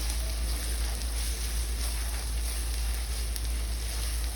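Ground coriander, cumin and garam masala sizzling steadily in hot oil in a pan for methi bhaji, a continuous close hiss with a low hum underneath and no voices.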